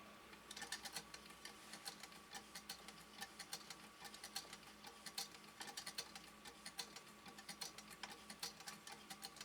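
A 1907 Singer 27 treadle-era sewing machine stitches through two layers of denim, giving a quiet, steady mechanical clatter with rhythmic paired ticks from the needle.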